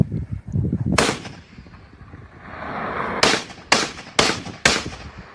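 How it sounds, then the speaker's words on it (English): Gunfire added to an altered video: one sharp loud shot, then after a pause a run of four sharp cracks at steady intervals, close and punchy over low background rumble, with no talk. "adding footage and audio of gunfire"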